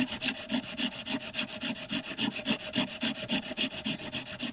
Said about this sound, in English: What I'm using here is a 80 grit sandpaper to hog off or remove a lot of this JB Weld high heat I put on there last time